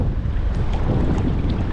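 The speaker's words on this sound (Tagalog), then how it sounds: "Hangin." Wind blowing hard at sea during a fishing trip, a loud rumbling buffet across the microphone with the wash of water beneath, continuous and close.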